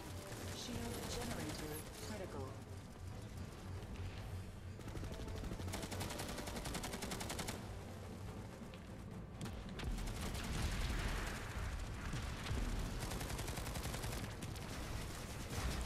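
Dense, sustained gunfire and automatic weapon bursts from the PS4 version of Planetside 2 rattle on almost without pause, growing heavier in the second half, with a player's voice occasionally mixed in.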